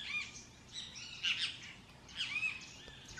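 Looping bird ambience in a game audio mix: repeated bright chirps and short song phrases in several bursts over a faint, steady background hiss, no voices.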